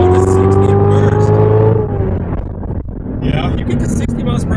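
A 2016 Corvette Z06 with a manual gearbox (3LZ, Z07) accelerates hard in first gear, its loud engine and exhaust climbing in a steady rising roar and then dropping off, with people talking over it.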